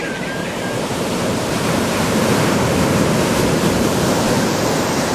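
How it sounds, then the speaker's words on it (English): AI-generated seascape of waves crashing against rocks with seagulls over the water, a loud, steady roar of surf and spray filling the whole stretch, a brief gull-like cry near the start. "we got a bunch of seagulls flying over the water and the waves are crashing into the rocks"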